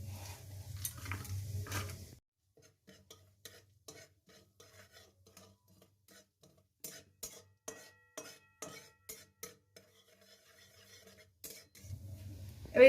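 Asafoetida and cumin seeds hit hot oil for tempering, with loud close sizzling bursts at the start and again at the end. Soft scattered clinks of a spoon and pan fall in between, and no one speaks.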